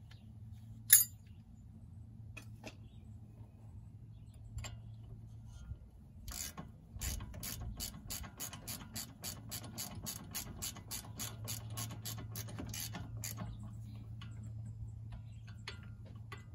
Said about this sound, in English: 17 millimeter wrench